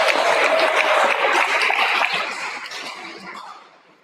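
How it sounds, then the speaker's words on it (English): Loud, dense applause from the audience at the Ithaca High School awards ceremony, holding steady for about two seconds and then fading gradually to quiet. "So another round of applause."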